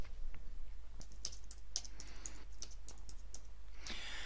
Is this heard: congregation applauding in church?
no